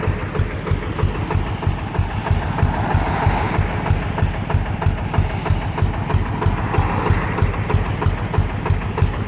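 A small six-wheel Thai Etan dump truck with a Toyota 5L engine runs at idle, close by, with a steady, even, rapid mechanical chug and no voices over it.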